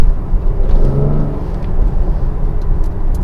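A 2020 Mercedes GLC 43 AMG Coupe engine runs in Sport Plus mode with its exhaust valves open, giving a steady, loud, continuous low rumble and drone that rises briefly in pitch around the middle as it pulls.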